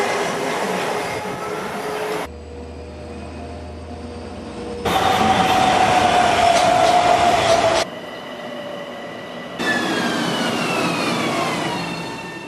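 A Long Island Rail Road train rides the tracks, its loud rumble shifting between sections with rising squeals and whines from wheels and motors, plus brief quieter gaps, with no talking.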